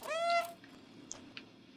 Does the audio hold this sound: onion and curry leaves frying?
no